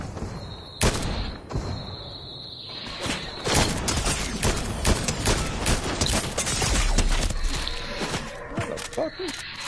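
Gunshots crack through a battle royale video game match, several sharp bursts scattered irregularly across the stretch, some near and loud, others more distant, with players talking over the shooting.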